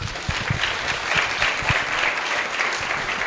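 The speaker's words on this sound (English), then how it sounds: "Let's give him a round of applause," Audience applause at a public service inter-generational dialogue conference, a steady wash of clapping from a full room that holds evenly for several seconds.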